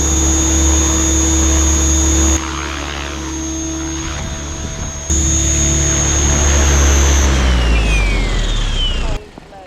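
A Synergy 516 RC helicopter comes down to land with a loud, steady rotor and motor whine that shifts in pitch and intensity as it settles, ending abruptly when it powers down.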